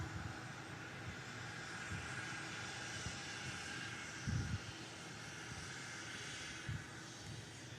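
Lufthansa jet arriving from Munich on approach to Manchester Airport, a broad distant engine roar droning steadily with slight swells, heard alone without talk.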